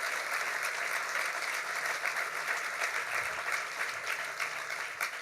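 Sustained audience applause fills a luncheon hall at Gore Mountain, a dense steady wash of many hands clapping at moderate distance, with no voices rising above it.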